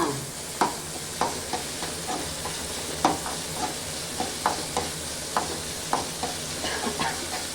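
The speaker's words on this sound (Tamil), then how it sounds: "தக்காளி போட்டு வதக்கிட்டு இருக்கோம்" Tomatoes being stirred and sautéed in hot oil, a continuous close sizzle punctuated by regular scraping clicks of a spoon against the pan, roughly one every half second to second.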